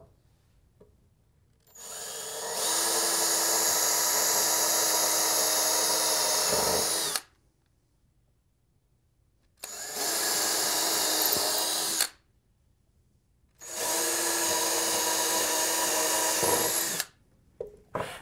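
A power drill bores holes into a wooden board for a DIY mid-century modern TV stand, running in three long, loud bursts with short silent pauses between them.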